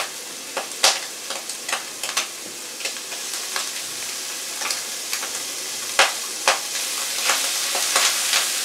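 Shrimp and scallops, golden brown, sizzle steadily in a hot pan, with sharp crackles and pops scattered across a continuous bright frying hiss, close and alone with no voices.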